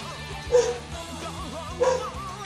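A dog in the shooter game Free Fire gives two short barks or yips about a second apart, loud and close over steady in-game background sound.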